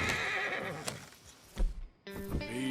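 A horse in Red Dead Redemption 2 gives a loud, close whinny, then after a short pause snorts with a few hoofbeats and shuffling, with no talk.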